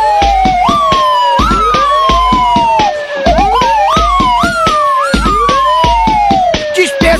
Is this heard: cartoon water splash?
no